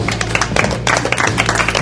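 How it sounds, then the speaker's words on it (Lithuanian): Applause from a television studio audience at a Miss Lithuania challenge show, with dense, loud clapping running steadily throughout and a crowd murmur underneath. "Jūsų aplodismentai"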